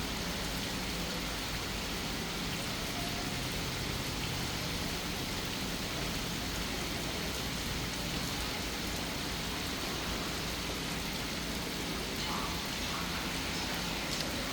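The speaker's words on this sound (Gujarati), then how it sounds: "ફૂલ વરસાદ આવ્યો અત્યારે" Heavy monsoon rain roars in a constant, loud wash of noise, unbroken from start to finish.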